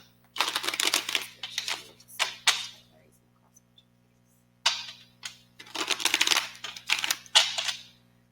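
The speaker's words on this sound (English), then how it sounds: "I don't think I didn't shuffle this deck, actually." A tarot card deck is riffled and shuffled in several crisp bursts of rapid flicking, with short pauses between, the rustle close and clear against a quiet room with a faint hum.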